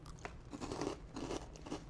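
Crunching on a crispy, spicy Thai Sriracha-flavored fried snack similar to tofu, with several close, dry bites and chews in quick succession and no talking.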